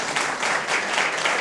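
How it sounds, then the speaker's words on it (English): An audience claps steadily for a woman introduced as heading a Republicans for Ginther effort at a Columbus Metropolitan Club mayoral conversation; a dense, even wash of applause fills the room without a break. "give her a round of applause"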